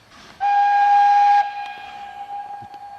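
A loud, steady steam whistle blast from a wood-fired narrow gauge Shay locomotive, held for about a second, then a softer sustained tone lingering afterward with light background clatter.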